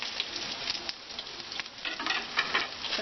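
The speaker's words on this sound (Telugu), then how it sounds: "తాలింపు దినుసులు వేసుకొని వేగిన తర్వాత వెల్లుల్లి రెబ్బలు, ఎండుమిర్చి, కొంచెం మిరియాల పొడి" Tempering spices for Andhra-style sambar crackle and sizzle in hot oil, a dense, close spitting patter that carries on steadily without a break.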